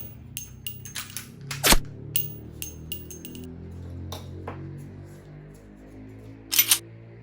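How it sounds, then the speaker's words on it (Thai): A Glock pistol fitted with a laser trainer is racked and dry-fired, giving sharp metallic clicks and snaps scattered irregularly, with a couple of louder slide racks standing out against quiet background. "ปืนกล็อกก็จะต้องใช้วิธีการ นะครับขึ้นลำหนึ่งครั้งแล้วก็ ยิงไป ขึ้นลำแล้วก็ยิงออกไป"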